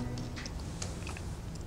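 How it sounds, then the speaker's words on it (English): Chewing food with the mouth, a soft, close crunching and smacking that runs under steady low background noise with faint clicks. "I can't hear you over the sound of me chewing."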